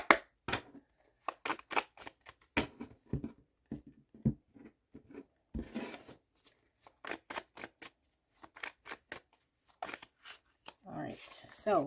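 Tarot cards shuffled by hand in a quiet room: a string of crisp, short riffling bursts and flutters in irregular clusters with brief pauses, close and fairly soft, with some speech mixed in.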